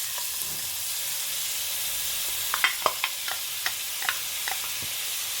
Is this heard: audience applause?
no